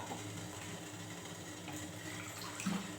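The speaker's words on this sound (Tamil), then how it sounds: "இப்போ நம்ம தேவையான அளவு புளி ஊற்றிக்கலாம்." Tamarind water is poured into a simmering village-style urundai kuzhambu curry, giving a soft steady trickle and splash that ends in a brief louder splash.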